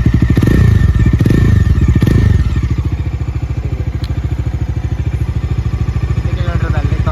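A newly delivered motorcycle's engine runs close by, loud and throbbing with fast regular pulses, revving harder for the first few seconds and then settling into a steady idle, with voices talking over it.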